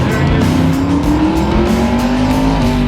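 Twin-turbo Toyota Hilux truck at an LS Fest West event, its engine driving hard with a loud, continuous rising drone and slight tire squeal, close and steady for the whole stretch with no talk.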